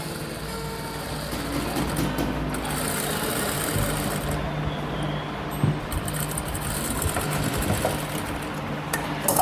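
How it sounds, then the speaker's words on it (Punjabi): A sewing machine stitches a lined kurti, folded at the side slit, with a steady loud mechanical whirr that runs almost without a break, pausing briefly only once or twice. "ਇਦਾਂ ਫੋਲਡ ਕਰਕੇ ਸਲਾਈ ਲਾਉਣੀ ਸਟਾਰਟ ਕਰ ਦੇਣੀ"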